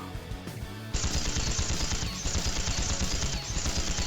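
Rapid gunfire in the video game The Legend of Heroes: Trails to Azure, a sudden dense burst of loud repeated shots after a quieter opening, continuing steadily with a few brief dips.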